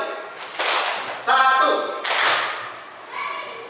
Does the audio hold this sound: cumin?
no